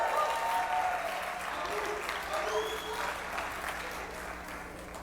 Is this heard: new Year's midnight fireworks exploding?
no